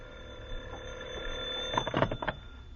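A telephone rings in a short burst of bright trilling near the end, fairly close, with a soft hum underneath and no talk.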